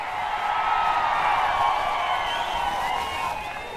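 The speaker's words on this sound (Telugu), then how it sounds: "గట్టిగా మీరందరూ కూడా చప్పట్లు కూడా చెప్పండి" A large audience at a political gathering claps and cheers in a dense, sustained roar of applause and shouting that swells and then eases slightly toward the end.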